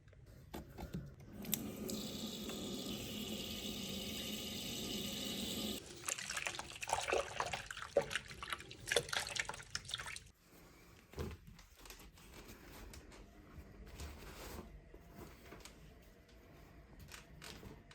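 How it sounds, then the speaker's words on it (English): Fabric artwork is washed under running water, giving a steady, quiet splash and trickle for several seconds, followed by irregular sloshing and handling noises that fade to soft, sporadic rustles. "I'm going to give this a wash now, and then we'll see what it looks like when it's washed and dried"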